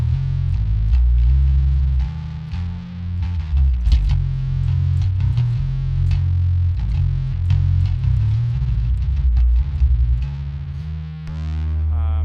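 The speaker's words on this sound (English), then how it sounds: "So you can put on distortion." Distorted guitar tone run through a Raspberry Pi effects pedalboard plays continuously and loudly, thick chords and notes held throughout with steady sustain and no talking.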